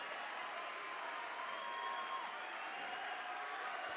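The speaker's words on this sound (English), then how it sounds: "the Southeast Polk fans standing and clapping for her" Basketball fans at a high school varsity game, Southeast Polk at Dowling, clapping in a steady, moderately distant wash of applause filling the gym, with faint crowd murmur and a brief whistle-like tone.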